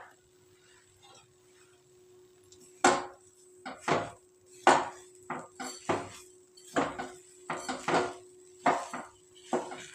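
A spoon clinks and scrapes against a pan as sugar is stirred into a coconut ladoo mixture, with a dozen short irregular metallic knocks, fairly close and moderately loud, over a quiet background.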